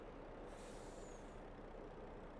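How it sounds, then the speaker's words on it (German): A baler drives past in Farming Simulator 22 with a continuous low, muffled engine rumble and a brief, high, airy hiss partway through. "da fährt die Ballenpresse vorbei"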